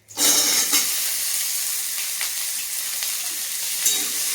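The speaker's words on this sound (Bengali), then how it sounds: "দিয়ে দেবো কেটে রাখা পুরো আলুটা।" Cut potatoes drop into hot oil with curry leaves and green chillies in a wok, bursting into a loud, steady sizzle with a few soft stirring scrapes, no voices.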